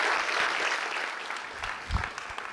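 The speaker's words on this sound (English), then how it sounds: "Thank you, Kaspars. A round of applause." Audience applause after a startup pitch at a deep-tech competition semifinal, a steady mid-level patter of many hands clapping, fading slightly toward the end.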